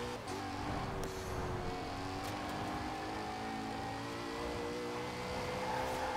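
Car accelerating in the Forza Horizon 4 video game, its engine note climbing steadily through the gears, quiet and continuous with no talk.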